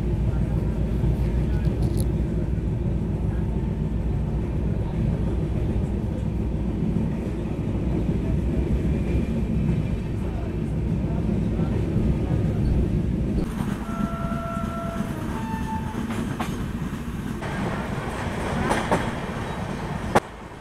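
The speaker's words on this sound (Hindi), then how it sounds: "अभी हमारी ट्रेन अराइव कर रही है आरा जंक्शन रेलवे स्टेशन पर" The Kashi Patna Jan Shatabdi Express pulls into Ara Junction station in Bihar with a loud, steady rumble and rhythmic wheel clatter, then brief high squealing tones as it slows. Voices can be heard faintly under the noise.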